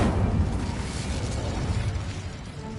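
A fire spell cast in the Hogwarts Legacy video game: a dense, roaring burst of flame that holds steady and loud for about three seconds, with no voices.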